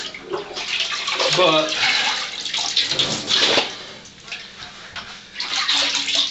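Tanned animal hides, including hock skins, being rinsed and stretched in a tub of water, giving repeated close sloshing and splashing with a person speaking briefly over it.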